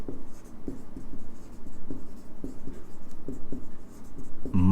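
Pen strokes scratch steadily across a writing surface, a close run of short, rhythmic scribbles repeating for several seconds with no talking.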